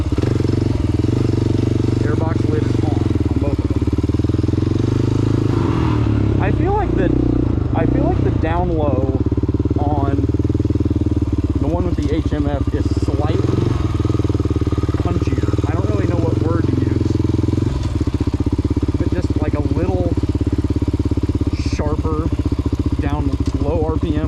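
A motorcycle fitted with an HMF aftermarket exhaust and airbox lid on drones steadily and loud throughout, with throttle changes shifting its pitch, while a person talks over it.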